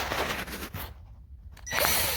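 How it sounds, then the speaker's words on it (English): A power driver runs in short bursts as it backs out a T20 Torx screw holding a blower motor shroud on a 2011-16 Ford F-250, whirring close up with a brief pause midway before spinning again. "you're going to have to remove this T20 Torx right here"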